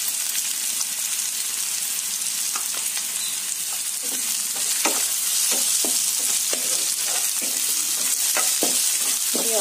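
Vegetables sizzling in a pan with chili powder, with repeated scraping and tapping strokes of a spoon as they are stirred, close and continuous with no talking.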